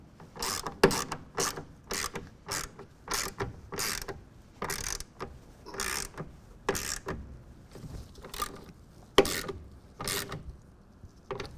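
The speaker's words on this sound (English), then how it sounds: "we'll go ahead and tighten this down also to 10 foot-pounds" Ratchet wrench clicking in short repeated bursts while tightening a clamp on a Gator EFX hard folding bed cover fitted to a 2026 Chevy Silverado 2500, close and crisp with brief pauses between strokes.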